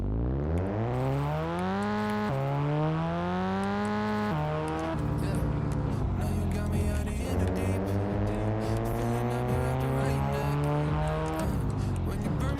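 A turbocharged BMW E30 M3 engine in a video game revs hard through repeated climbing pulls, pitch rising then dropping at each shift, loud and continuous with no talk.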